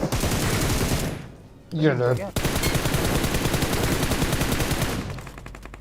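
UMP submachine gun fire in a mobile battle royale shooter, rapid sustained automatic bursts close by, broken by a short gap where a voice speaks briefly, then more continuous firing trailing off.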